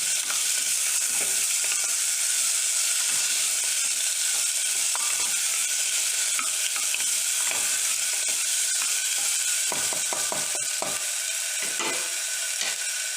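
Chicken stew ingredients with chillies sizzle steadily in a pan while a spoon stirs and scrapes through them, producing repeated clacks and scrapes over a constant close frying hiss.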